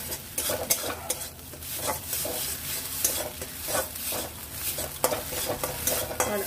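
Mashed pointed gourd stirred in a pan to cook off its water gives rhythmic spatula scrapes against the metal, repeating roughly every half second over a light, steady sizzle, close and fairly loud.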